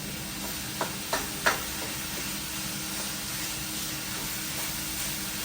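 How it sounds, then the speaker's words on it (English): Ground turkey browns in a pan on a cold winter day, giving a steady, moderately loud sizzle and hiss with a few sharp scrapes of stirring near the start and no talking. "Now I'm just browning up this ground turkey."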